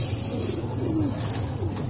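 An Amritsari Indian Shikray pigeon gives a soft, low coo close by, a brief murmuring call over a steady background hum.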